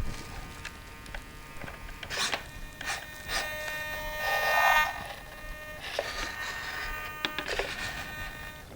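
A flap servo on a CN-Models Sensor F5J RC glider, not yet screwed down, whirs through its deflection range in several short mechanical buzzing bursts, fairly quiet and close, with no talking.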